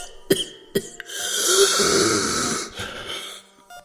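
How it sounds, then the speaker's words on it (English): A man coughs sharply a few times, then rasps through a long, strained wheeze before a final rough cough; close and alone. "coughed again, wheezing as he desperately tried to refill his lungs"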